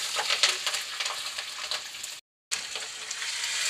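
Chopped green chilies, about 150 grams, fry in a pan with a steady, close crackling sizzle that cuts out briefly near the end before resuming.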